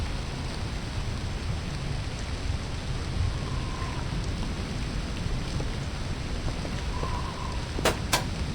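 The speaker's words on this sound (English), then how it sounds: "It's hard to hear because of the stupid rain." Steady rain hisses throughout in the video game Voices of the Void, a dense, even wash of noise with no talking, broken only by a couple of brief sharp clicks near the end.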